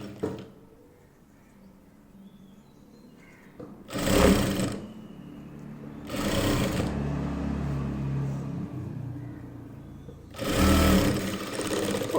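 A sewing machine stitches a zip onto a ladies' handbag made from scrap cloth. It runs in three separate whirring bursts of about a second each, with quieter handling of the fabric between them. The sound is close and steady.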